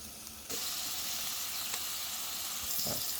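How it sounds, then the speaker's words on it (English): Paneer fries in a pan with a constant, even sizzle and hiss that starts abruptly and holds steady, with a couple of faint clinks near the end. "Now you can hear it sizzling, so that means getting closer to being done."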